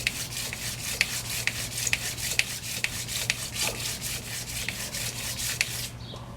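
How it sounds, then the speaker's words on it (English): Steady rhythmic rubbing of a fine 320 grit sanding sponge scuffing raised cast letters before painting, close and continuous with regular strokes over a low electrical hum, no talking. "I didn't figure you guys would want to watch me sit there and sand all night"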